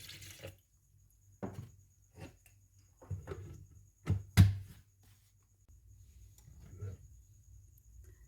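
Water is poured in for a chutney of apricots, tamarind pulp, salt, green chillies, roasted cumin, red chilli and coriander, a few short splashing bursts separated by quiet gaps, fairly close.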